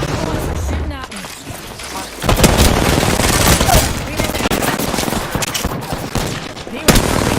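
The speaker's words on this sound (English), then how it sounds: "Shooting at me." Rapid bursts of gunfire in the battle-royale video game Apex Legends, dense and loud for most of the stretch, with overlapping shots and explosive cracks and a voice talking amid the fight.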